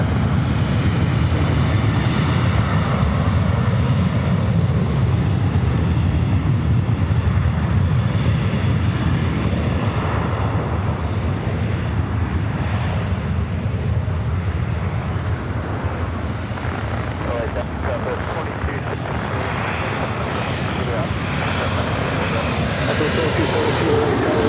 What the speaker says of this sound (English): This arrival is Alaska Airlines 936 coming in from Fort Lauderdale, the 737-900ER